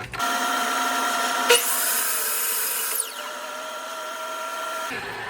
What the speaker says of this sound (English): And now when I make my cut, it's going to go through both boards